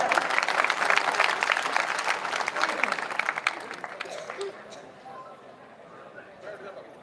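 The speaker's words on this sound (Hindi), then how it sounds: "एक बार तालियों से इनका जोरदार स्वागत करें" An audience at a farmers' and labourers' panchayat breaks into strong applause to welcome speakers, loud at first and then thinning into scattered claps and murmuring voices.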